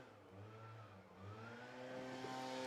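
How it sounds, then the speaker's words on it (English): A leaf blower runs just outside a front door, a faint droning motor with a wavering, slowly rising whine heard indoors from a short distance. "I'm sorry if you guys can hear the leaf blower guy right outside my front door."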